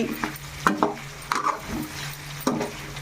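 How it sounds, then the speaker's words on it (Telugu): Chicken frying with curry leaves and curry leaf powder in a pan, a steady sizzle broken by several scraping stirs of a spoon against the pan. "ఒక మూడు నాలుగు నిమిషాలు అట్లా ఫ్రై చేసుకుందాం"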